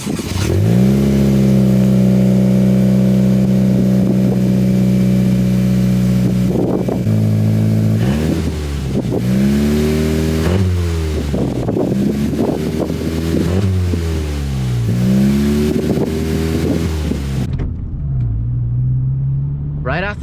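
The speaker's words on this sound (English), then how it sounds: "fire her up now" A modified car engine cranks and catches, then idles before being revved repeatedly in rising and falling bursts, loud and close, with rain and wind noise from a storm around it.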